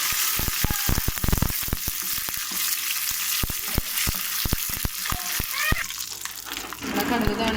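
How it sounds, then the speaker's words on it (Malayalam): Mustard seeds, dried chillies and curry leaves sizzle in hot coconut oil with a steady fry, while sharp pops and crackles of bursting seeds break through the sizzle at irregular moments. "നമ്മുടെ എണ്ണ നല്ലോണം ചൂടായിട്ട് വരുമ്പോൾ നമ്മൾ ഇതിലേക്ക് കടുക് ഇട്ട് കൊടുക്കാം."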